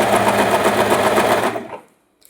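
Sewing machine stitching a fall onto a saree, a loud, close, steady rapid whir of the needle running for about a second and a half before stopping abruptly.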